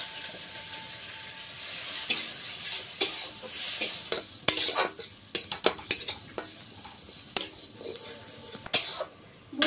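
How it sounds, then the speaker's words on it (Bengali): Mung dal frying in a little oil while stirred, a soft sizzle broken by frequent sharp scrapes and clinks of a spatula against the pan, close by. "মুগ ডাল ভাজলে তো হেবি সুন্দর সেন্ট বেরোয়, তো সেই জন্যই কিন্তু ভেজে নিচ্ছি"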